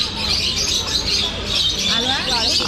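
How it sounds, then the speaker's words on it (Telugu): Rosy-faced lovebirds in a zoo aviary in Mysore, a dense continuous chatter of high chirps and squeaks, fairly close and busy, with a voice speaking over the flock. "Sorry, rose face love birds అంటే ఇవి."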